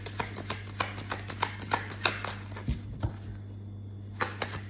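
Tarot cards are drawn and laid out, a run of soft, quick slaps and flicks at close range over a steady low hum, with a short pause before a final card lands.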